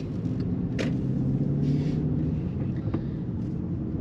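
A manual-transmission car drives through Lviv streets on a driving exam route, giving a steady low engine and road rumble heard from inside the cabin, with brief faint knocks and rattles over the continuous drone.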